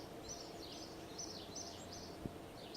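Birds chirp at dawn in the Kerbal Space Program video game: faint, repeated short twittering calls over a soft background hiss, with no talk.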